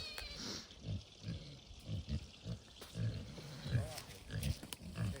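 Pig on an old homestead giving a series of low grunts and snorts in an irregular rhythm, fairly close, with quiet rustling and faint outdoor background between calls.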